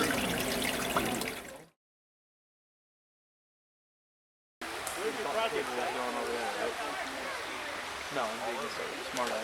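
Creek water flows steadily outdoors, a soft continuous rush that breaks off into a few seconds of silence and then returns with voices talking over it.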